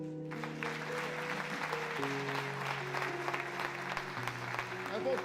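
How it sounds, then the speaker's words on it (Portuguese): A church congregation applauds in a steady, dense wash of clapping while sustained organ or keyboard chords sound underneath throughout. "Aplaudo o Senhor por essa igreja."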